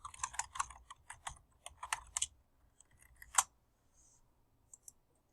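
Clicky computer keys tapped in quick uneven bursts while a note is typed, close and crisp, with a few sparse keystrokes trailing off after a pause.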